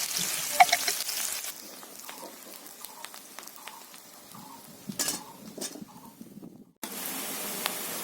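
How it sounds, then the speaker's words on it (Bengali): Onions frying in hot mustard oil in a wok, with a steady close sizzle and occasional stirring clinks that briefly drop out near the end before resuming. "কড়াই সরষের তেল দিয়ে দিচ্ছি। পেঁয়াজগুলো তেলের মধ্যে দিয়ে দিচ্ছি, দিয়ে ভালো করে ভেজে নেব।"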